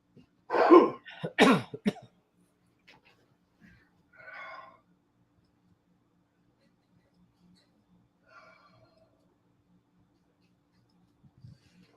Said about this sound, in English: Never fails. I get on here and I start coughing.